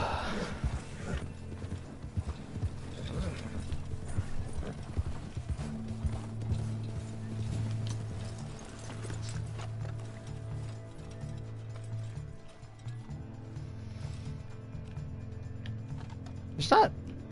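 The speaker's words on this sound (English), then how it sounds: "I am probably gonna come off my horse if I don't slow down a bit here." Rapid hoofbeats drum along steadily in snow in Red Dead Redemption 2, with mechanical clicks and a low hum underneath, ending in a sharp burst.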